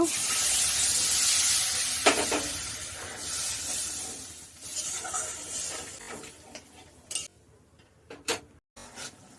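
Water poured into a pan of frying spices, salt and turmeric, hisses in a loud broad sizzle that slowly fades into scattered pops and crackles.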